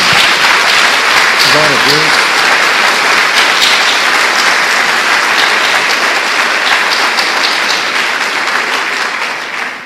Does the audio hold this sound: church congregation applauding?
yes